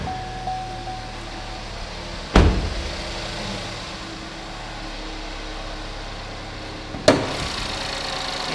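A 2014 Chevy Equinox all-wheel drive with a 2.4 liter Ecotec engine idles smoothly and quietly at close range. Two sharp clicks or knocks stand out partway through, and no one speaks.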